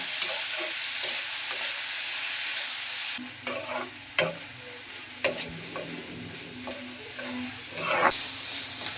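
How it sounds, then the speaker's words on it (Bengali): Sliced onions and garlic, salted, fry gently in a pan for a Mymensingh-style pumpkin-leaf dish; a steady close sizzle runs for a few seconds, then gives way to softer frying broken by several sharp spatula scrapes and knocks. "পেঁয়াজ রসুনগুলো হালকা করে ভেজে নিচ্ছি"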